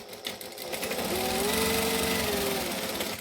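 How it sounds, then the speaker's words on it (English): A sewing machine basting fabric in one steady close run of fast needle chatter, starting up and stopping within a few seconds. "So I'm just basting this on so that I can sew easier later."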